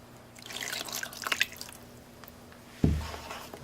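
Water rinsing over a rugged Samsung Rugby Smart phone, a few scattered splashes and drips followed by a sudden louder splash near the end, close and quiet overall.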